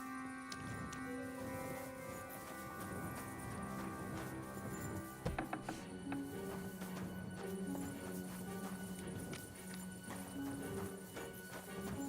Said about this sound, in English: Wait, I think I heard horses.